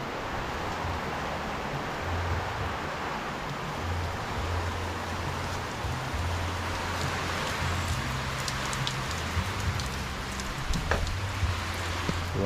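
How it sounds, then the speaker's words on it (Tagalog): Heavy, unbroken rain pours steadily with wind near a hut by a rising lake, a dense wash of drops hammering surfaces throughout, with a low rumble underneath. "Walang tigil ng ulan."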